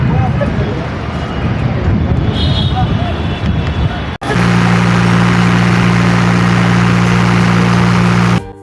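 A trawler boat's engine idles on Hatirjheel lake in Dhaka, starting as a rough chugging under loud nearby talk, then settling into a steady, droning hum with a strong low tone that cuts off abruptly.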